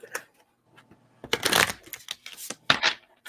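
A rainbow-colored deck of cards being shuffled, several quick riffling bursts close to the microphone, with brief snatches of a voice at the start.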